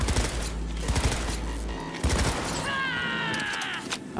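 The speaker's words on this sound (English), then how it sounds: "who's he shooting at?" Gunfire in Cyberpunk 2077 during a mission, bursts of rapid automatic shots and cracks rattling through the first two seconds, then a softer mechanical whirring layered over a steady game soundtrack.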